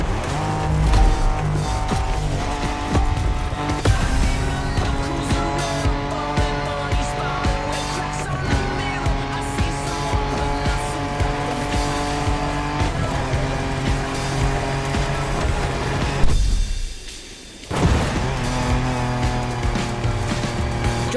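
Off-road car driving in the video game The Crew Motorfest, a loud engine roaring and shifting through gears with tire squeal and skidding, a brief dip near the end before the engine surges back.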